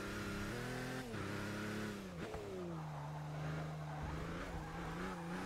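An LMP1 race car in Forza Motorsport 6 runs over the curb, engine droning steadily with pitch shifts as it slows, a short jolt and tire scrub mid-run, loud and continuous with no talking.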